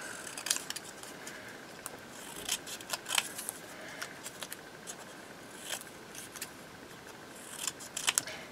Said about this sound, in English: Let's just cut around this.